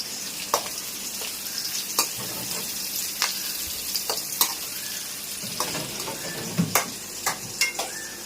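Liver frying in a pan with ginger garlic paste, a continuous close sizzle punctuated by repeated sharp scrapes and taps of a spoon stirring against the pan.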